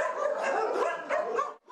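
Several dogs bark and yip in overlapping bursts at an animal shelter where strays are held in enclosures, loud and close throughout with a brief drop near the end.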